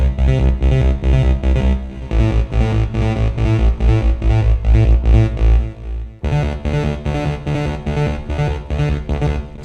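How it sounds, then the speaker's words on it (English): Synthesized trance rolling bass drives a fast, continuous pulsing groove with distorted, chorus-thickened tones, loud and unbroken apart from a brief dip near the middle. "And last but not least, a trance rolling bass."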